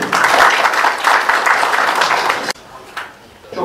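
An audience at an AK Parti district meeting in Beşikdüzü claps in a dense burst of applause lasting about two and a half seconds, then cuts off abruptly into quieter room sound.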